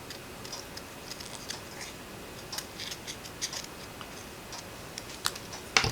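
Scissors snip around a paper die-cut window and flower box image in a quiet room, with faint irregular small clicks and light paper rustles scattered over a steady hiss, growing slightly louder near the end.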